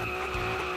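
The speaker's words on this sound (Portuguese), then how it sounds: "Tá estralando com a turbina." Race car revving loudly in a car dealership driving game, its engine droning steadily with a rough turbo note and tyre squeal through the short stretch, with no talking.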